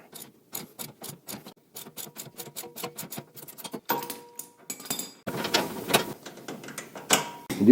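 A flex head ratchet clicks in quick, close bursts while loosening a rear camber control arm bolt on an Acura Integra DE4, followed by louder metallic clatter and rattling of tools.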